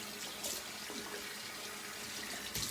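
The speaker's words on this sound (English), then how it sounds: "Let's do a quick rinse on the brush before I switch over to the cold water." Tap water running into a sink while a shaving brush is rinsed under it, a steady soft splashing stream with a few brief louder gushes, no talk.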